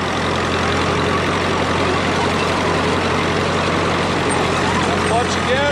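A Caterpillar D2 crawler dozer engine runs steadily while the machine drives, a loud continuous mechanical drone with a low throb throughout and no clear break.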